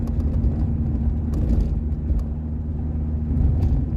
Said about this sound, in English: Vibrating cars anyway, as you can tell, I'm on a bouncy road